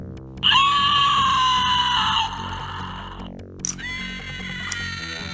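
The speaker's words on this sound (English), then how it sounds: "Velociraptor came with a scream which sounded nothing like its movie counterpart" A Jurassic Park velociraptor toy lets out a long, high electronic scream, and a second shorter shriek follows after a brief pause.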